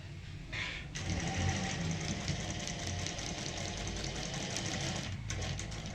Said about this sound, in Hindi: यहाँ पे लगानी है हमें सिलाई।